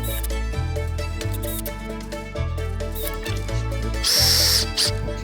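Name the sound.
power drill driving screws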